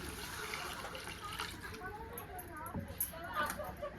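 Water pours and trickles steadily into a container of spice mix while cooking green chilli egg curry, with liquid splashes throughout and some faint background noise.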